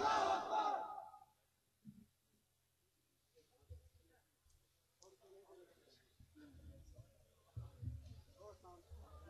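A large crowd at a religious gathering answers a Naara-e-Takbeer slogan with a loud collective shout that fades out quickly. Scattered voices and murmurs follow in the quieter stretch.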